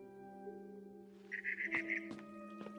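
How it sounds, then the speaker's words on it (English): A barn swallow chirps outside a bedroom window in the video game What Remains of Edith Finch, a short bright run of chirps rising over soft, sustained musical tones, followed by a couple of faint clicks. "Then I heard chirping outside my window."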